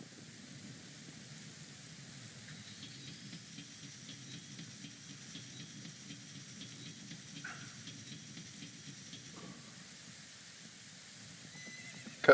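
Horse neighing in Zelda: Ocarina of Time, heard against a steady wash of stormy rain with faint rhythmic hoof-like ticks; no voices.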